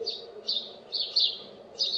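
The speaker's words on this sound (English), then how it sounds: "that is the chirping sound by the small birds" High, bright chirps from small birds come in short bursts roughly every half second, fairly close, over a faint low background hum.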